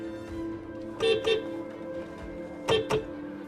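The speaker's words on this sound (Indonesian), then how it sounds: "Terus klakson yang kencang." Two pairs of loud car horn honks, each a quick double toot, sounding over a steady hum of traffic or engine noise.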